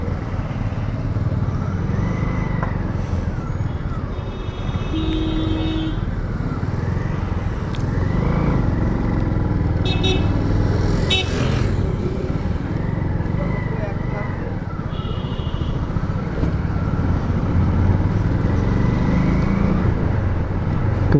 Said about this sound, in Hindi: यहाँ पे ट्रैफिक बड़ी लगती है